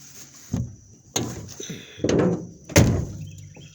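The door of a 1974 Ford Maverick is shut several times, giving four dull thunks at a steady pace, close by, with quiet handling noise between them.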